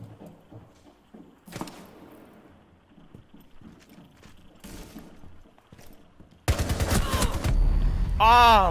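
Gunfire in Rainbow Six Siege: scattered faint footsteps and a few isolated shots, then a sudden loud burst of rapid automatic fire continuing to the end, close and dense.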